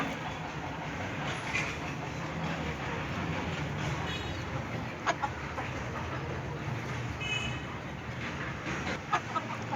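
Aseel chickens give a few scattered clucks over a continuous, loud, broadband background noise, with no clear talking.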